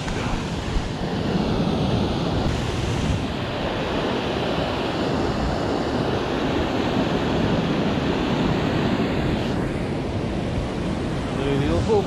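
A waterfall pours steadily into water below, a dense, continuous rushing wash, close and loud with no break, wind buffeting the microphone now and then.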